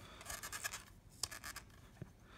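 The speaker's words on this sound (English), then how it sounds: "I just lay my knife right there and I turn the shaft" A knife trims the leather tip of a pool cue as the shaft is turned by hand, giving faint, rhythmic scraping strokes with a few soft taps, close and quiet.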